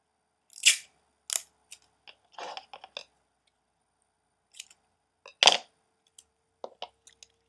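A small piece of adhesive tape pulled and torn off while wrapping a gift box, crisp short ripping bursts separated by silences, close and isolated, with faint handling clicks between them.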